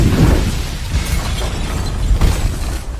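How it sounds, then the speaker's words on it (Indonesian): A loud explosion bursts out at the start, followed by rumbling debris and crackling bursts that keep the roar going. "seketika menjadi meledak. Boom!"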